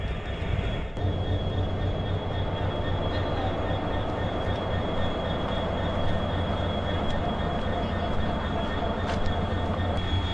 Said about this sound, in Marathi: WDP 4D डिझेल इंजिन आहे.